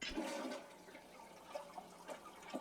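A toilet flushes in the video game Ham Hole, a short rushing swirl of draining water heard alone at moderate volume.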